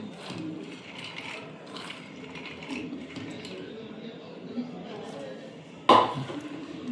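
A mixer grinder whirs while grinding soaked mung beans with green chilli and garlic, a muffled mechanical churning under a voice, ending with a sharp click.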